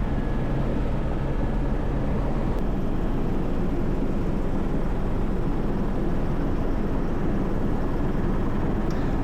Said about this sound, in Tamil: ரோட்டார் பிளேடோட சத்தம் தாங்க